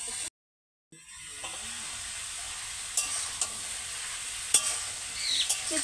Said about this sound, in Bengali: এবার এই তেলের মধ্যে আমি এই কাঁঠালগুলোকে দিয়ে একটু ভেজে নেব।